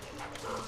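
A dog in the Luigi's Mansion video game gives a single short, muffled yelp-like bark, brief and fairly quiet amid game background sound.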